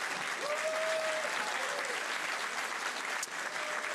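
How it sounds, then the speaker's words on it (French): Sustained applause from a large audience at a cinema masterclass event in a hall, an even, continuous roar of clapping with a faint voice briefly over it. "que vous pouvez applaudir"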